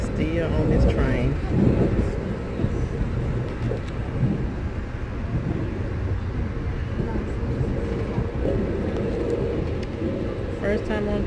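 A passenger train in motion, heard from onboard as a steady loud rumble with broadband rattling and rushing noise throughout, with a few brief voices on top.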